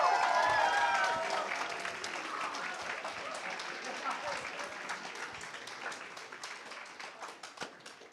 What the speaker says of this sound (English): So can we get a round of applause, please?